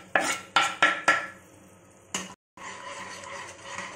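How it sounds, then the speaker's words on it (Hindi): Cinnamon and other herbal kada ingredients go into a pot for an Ayurvedic herbal tea: four quick, close clinks and thuds in a row, then a louder knock, a brief pause, and soft rustling. "जो भी मेरे पास इंग्रेडिएंट्स थे वो सारे इंग्रेडिएंट्स मैं एक साथ इसके अंदर"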